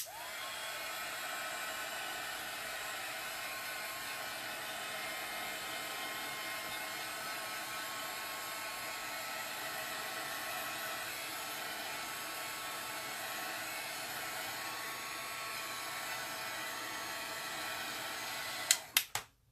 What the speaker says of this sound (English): I'm going to take my heat gun and go and dry this just a little bit